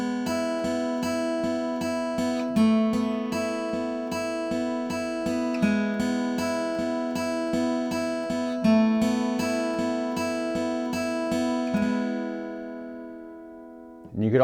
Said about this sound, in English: you could play the note that your finger is on and then alternate those higher notes